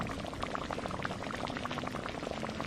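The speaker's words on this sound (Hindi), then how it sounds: "गंगा माँ ने फिर उसी जादुई बर्तन में चिकन करी बनानी शुरू की" Chicken curry bubbling in a pot, a steady close boil of dense popping bubbles and simmering liquid heard alone at a moderate level.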